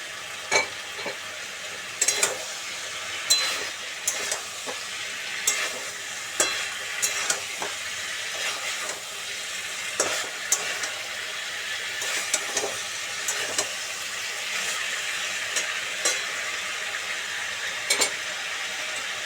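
Fried cauliflower pieces being stirred in a pan for a Bengali cauliflower chorchori with peas and a spoon of sugar, giving a soft continuous sizzle and frequent rhythmic scraping clacks of a spatula.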